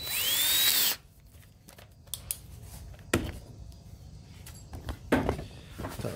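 A power drill bores a center hole with a loud, brief whine that stops abruptly, followed by quiet clicks and knocks as the bit is changed to a step drill.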